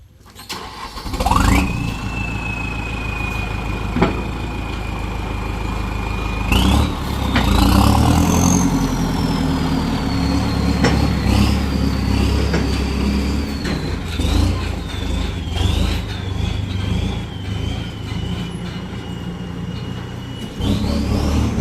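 A heavy farm tractor engine starts up and settles into a steady, loud idle, with its pitch rising and wavering as it revs, close by and running continuously.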